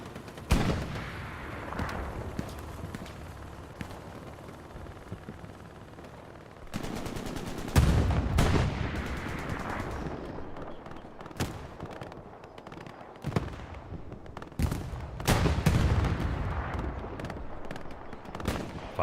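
Bursts of machine gun fire in the Hell Let Loose video game, rapid rattling volleys that start and stop irregularly, some close and loud, others more distant, with no talk over them.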